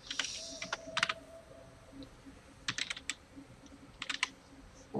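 Computer keyboard typing while renaming a character in the survival game Stormfall: Saga of Survival, quick bursts of soft key clicks separated by short pauses, close and fairly quiet, with no talking.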